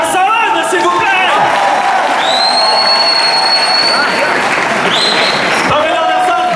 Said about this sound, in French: je vous demanderai de l'applaudir très très très très fort